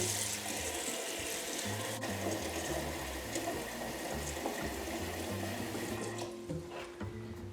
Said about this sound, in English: I'm going to fill the pot up to where it's about 3 inches over the top of the beans